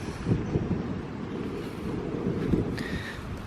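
Strong wind gusting across an old 1800s country cemetery, a steady low roar buffeting the microphone with rising and falling surges, loud and close, no talk.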